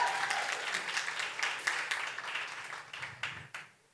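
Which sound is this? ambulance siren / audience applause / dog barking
audience applause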